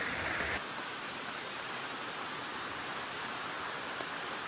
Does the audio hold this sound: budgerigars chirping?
no